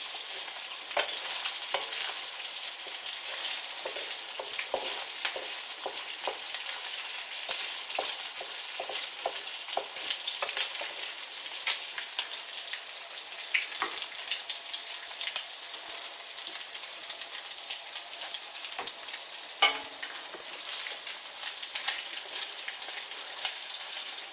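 Chicken frying for pancit noodles, a soft continuous sizzle with scattered crackles and pops, steady and moderately faint throughout.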